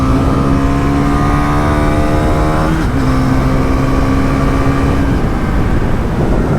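A Bajaj Pulsar NS 400 motorcycle accelerates hard on a highway, its engine note climbing loud and close under heavy wind rush, with a brief dip at a gear change before it pulls again.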